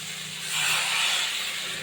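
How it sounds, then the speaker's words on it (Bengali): Water hits a hot pan of frying potato and cauliflower, bursting into a loud, close, hissing sizzle that swells briefly and then settles. "এবার আমি জল দিয়ে দেবো।"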